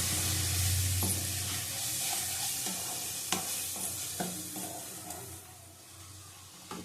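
Spices with Kashmiri chili powder hiss and sizzle in oil nearby, with repeated scraping strokes and light knocks of a spoon against the pan.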